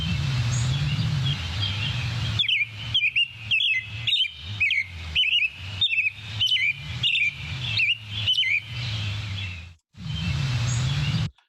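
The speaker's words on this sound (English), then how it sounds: "So whistled songs, and that was an American robin." An American robin sings clear whistled phrases in a springtime setting, a series of short, crisp, evenly spaced notes close and loud, separated by brief silences, with the background noise cut between phrases.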